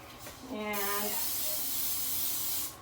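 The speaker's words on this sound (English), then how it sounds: "let me spray down my pan" Cooking spray hisses steadily onto a baking pan for pumpkin bread, a near continuous spray lasting about two seconds, with a brief voice at the start.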